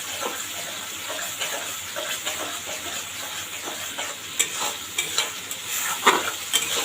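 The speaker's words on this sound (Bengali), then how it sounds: "কষিয়ে নিব মশলা ভালোভাবে না কষলে তরকারি খেতে ভালো লাগে না" Spice masala being stir-fried in a pan for a tomato and pangas fish curry, with a steady sizzle and scraping stirs that grow more frequent toward the end, close up and without talk.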